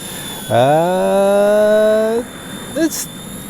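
Small RC ERA MD500 C184 model helicopter flying outdoors in wind, its electric motor whining up in pitch and holding a steady tone for under two seconds before cutting off, followed by a brief electronic chirp.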